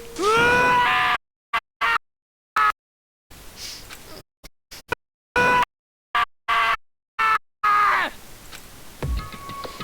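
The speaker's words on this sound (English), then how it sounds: "As Taka's sad scream invaded our skull," A Danganronpa character gives a loud, sad scream that breaks off into choppy, stuttering bursts separated by sudden silences, then ends in a few short strained cries.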